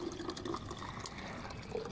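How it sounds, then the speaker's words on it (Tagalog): Chilled filtered water runs from a public water machine, a steady splashing trickle with faint dripping, heard close and alone for a brief moment. "Ang lumalabas na tubig dyan,"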